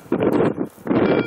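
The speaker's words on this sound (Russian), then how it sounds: "Ветер сильный." Strong wind buffets the microphone in two loud gusts with a short lull between them, rough and rumbling.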